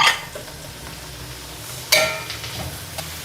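Dried mushrooms sautéing in a pan for a pork belly stir fry, a faint sizzle under sharp scrapes and clinks of a utensil against the pan, with two brief louder strokes.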